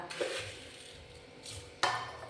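A spoon mixes sugar into vattayappam rice batter in a bowl, giving soft scraping swirls punctuated by a few sharp clinks against the bowl's rim, close and quiet.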